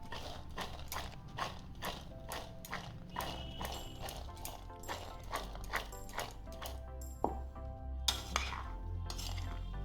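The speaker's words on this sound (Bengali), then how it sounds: "এবার আমি এটাকে এইভাবে মেখে নেব।" Chickpea chaat with black pepper is mixed in a bowl, producing a quick, rhythmic series of clacks and clinks that run on for several seconds, with a few sharper knocks near the end.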